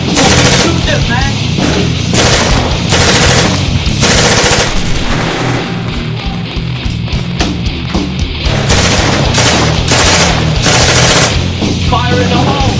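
Rapid automatic fire from a Type 56-1 airsoft electric rifle mixes with dense, loud, continuous bursts of other gunfire throughout, while voices talk underneath.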